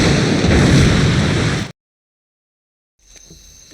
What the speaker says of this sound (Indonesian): Ko Chun juga memasang beberapa tabung gas untuk meledakkan bangunan itu.